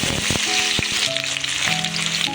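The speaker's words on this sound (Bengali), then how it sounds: "আমি এবার পেঁয়াজ কুচি দিয়ে" Chopped onions sizzle loudly in hot oil in a pan for a Bengali pangas fish curry, a dense continuous frying hiss close up with a few clinks of a utensil stirring and no speech.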